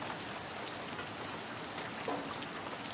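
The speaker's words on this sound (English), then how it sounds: "It's raining pretty hard right now." Heavy rain falls steadily outdoors at night as a dense, even hiss of drops that carries on without a break, with no voices over it.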